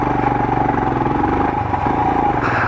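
Royal Enfield Himalayan BS6 motorcycle being ridden, its single-cylinder engine thumping steadily at an even cruising pace, loud and close with wind rumble and no talk.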